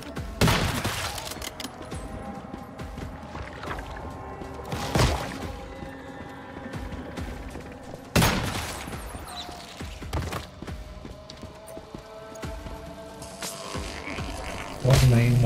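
Gunfire from gun-carrying zombies in the video game Once Human, scattered loud shots and short bursts at irregular intervals, some close and sharp, over a busy game background.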